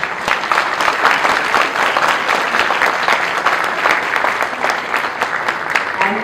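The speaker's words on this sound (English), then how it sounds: "I think the claps can be louder" An audience at a school musical claps for two teachers, a loud, sustained round of applause from a crowd with individual claps standing out, with no voices over it.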